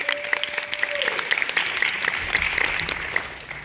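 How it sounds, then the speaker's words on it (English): Audience applause at a post-grad hypnotist show, a dense steady patter of many hands clapping for a few seconds with a faint tone fading early and a hint of crowd murmur. "Give him an applause"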